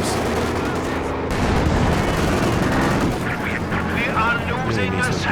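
Machine gun fire in a World War II strategy game, dense rapid rattling bursts and gunfire clatter filling the scene, while a commentator talks over it.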